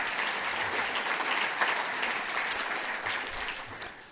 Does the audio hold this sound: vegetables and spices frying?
no